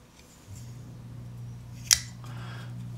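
The blade of a Brous Bionic liner-lock folding knife twists and snaps shut with a single crisp metallic click, heard once over a low steady background hum.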